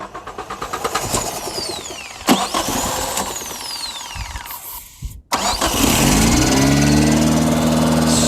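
A Chevy Tracker engine cranks and catches, then runs rough and misfires with uneven sputtering, a brief dropout, and a steady loud rumble as it settles, close by with no talking.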